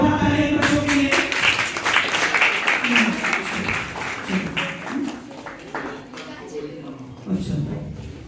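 Applause for students at a school prize ceremony during a parent-teacher meeting, a steady patter of clapping heard together with someone speaking over it before fading near the end.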